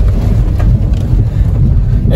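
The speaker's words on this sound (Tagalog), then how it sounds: "sobrang lakas po ng bagyo. Hangin lang siya, mahangin" Strong typhoon wind roars loudly and steadily against the microphone, a heavy low rumbling buffet with no breaks and no voices.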